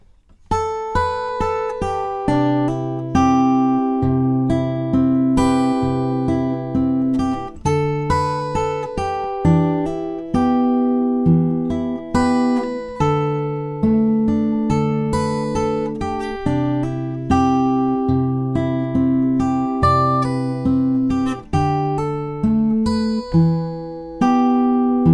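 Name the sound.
guitar playing the first half of a song intro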